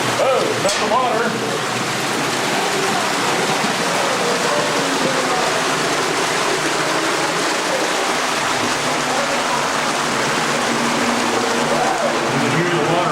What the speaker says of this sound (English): You can hear the water rushing past me.